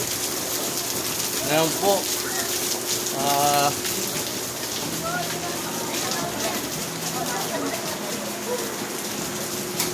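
Heavy rain falling at a market in Gapan, Nueva Ecija, heard as a dense steady wash under Tagalog speech from several people nearby.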